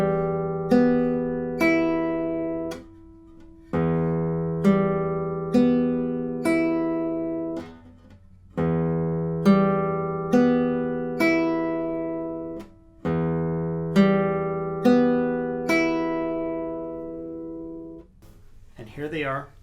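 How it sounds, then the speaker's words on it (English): Classical guitar open strings plucked with unfiled nails, four repeated phrases of ringing plucked notes each decaying, clear and close with brief gaps between phrases, no voices. "I had recorded earlier what my guitar sounds like when my nails weren't filed"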